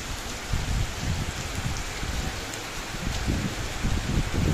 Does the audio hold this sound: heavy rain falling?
yes